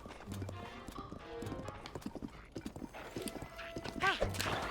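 Horse hooves clip-clop in a Legend of Zelda video game, a quick, uneven run of close hoofbeats with a whinny near the end, mixed with game sounds and someone talking.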